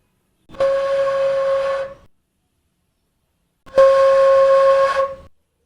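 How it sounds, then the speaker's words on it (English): Two long, breathy tones on a traditional Indian flute, each held for over a second, separated by a brief silence; airy and close with a steady pitch. "This is like a traditional Indian flute."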